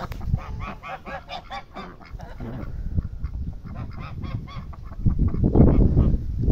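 Sebastopol geese honk near their nest shed, a loud flock of repeated nasal calls overlapping at close range, rising into a denser burst of honking toward the end.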